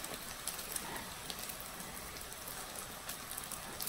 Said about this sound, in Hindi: इनको इस तरह फ्राई होने दीजिए।